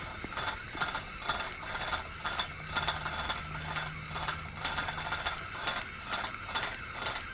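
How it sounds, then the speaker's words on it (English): A fishing reel winding line onto a rod under a caravan awning, a rapid ratcheting clicking in repeated bursts of cranking, close and steady with no talking. "That's how you spool a rod under your caravan awning."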